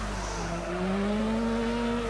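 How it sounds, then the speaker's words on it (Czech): Screeching tyres and a rising engine whine as a car drifts in an arcade racing video game, a sustained squeal climbing in pitch over a couple of seconds, fairly quiet and with no talk. "A ty furt driftuješ, musíš poslouchat motor trošku."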